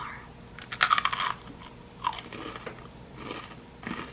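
Someone bites into oven-crisped snacks: a few sharp, close crunches, loudest near the start, then softer chews spaced out over a few seconds in a quiet room.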